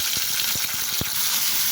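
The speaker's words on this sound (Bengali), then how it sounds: "উস্তাটা আমি এখানে হালকা একটু ভেজে নেব।" Sliced bitter gourd frying in hot soybean oil gives a steady, bright sizzle with a few soft pops and bubbles at the pan's edge. No voices.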